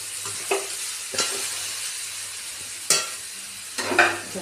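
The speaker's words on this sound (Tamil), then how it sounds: "இப்போ இதை நல்லா கலந்து விடணும் இந்த வெங்காயம் தேங்காயில்." Onion and grated coconut being stirred in a frying pan for dal, a steady sizzle broken by four or five sharp scraping strokes of the spoon at uneven intervals, close and fairly loud with no voices.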